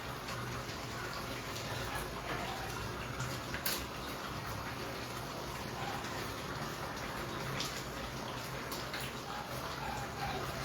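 Hot water poured into a pan of pork steak, a steady quiet splashing and hissing stream with faint scattered drips and clinks throughout, and no talking.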